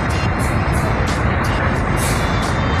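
A PO Bhinneka bus pulls away on the Purwodadi route in Indonesia. Its loud, close engine drone is constant, with a few short high beeps above it throughout.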